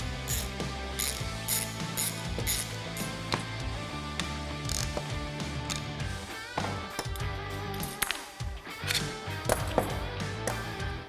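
A ratchet wrench turns out the button head Allen screws holding a side detent shifter for a GM automatic transmission, with continuous close clicking and metallic clatter and no speech.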